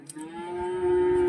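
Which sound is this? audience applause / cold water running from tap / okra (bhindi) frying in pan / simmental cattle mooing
simmental cattle mooing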